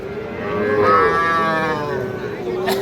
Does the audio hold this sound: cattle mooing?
yes